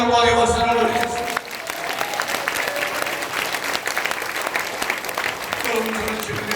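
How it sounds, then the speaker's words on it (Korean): A church congregation applauds during an autumn joint revival service in the sanctuary; after a brief tonal voice at the start, loud, dense clapping fills the room and holds steady to the end. "우리 하나님께 영광의 박수를 올리겠습니다"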